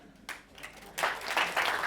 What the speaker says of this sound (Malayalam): ലാസ്റ്റ് മതി കയ്യടി.